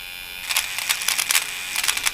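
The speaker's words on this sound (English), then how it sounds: "The motor is having problems" An older FK Irons rotary tattoo machine with a failing motor buzzes in uneven bursts, sputtering and surging irregularly over about two seconds, close and alone.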